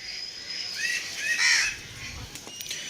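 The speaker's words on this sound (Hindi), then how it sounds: "आज कौवे देखे कितने ज़्यादा आ गए हैं" Crows caw repeatedly, a few harsh calls close by and others farther off, over quiet outdoor background.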